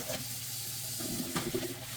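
Tap water runs steadily over dried miyeok seaweed being rinsed for soup, a continuous close splashing hiss with light sloshing as the seaweed is moved about.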